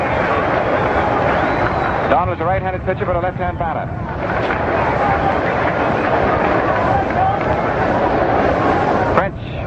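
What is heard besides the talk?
baseball crowd applause as the pitcher appears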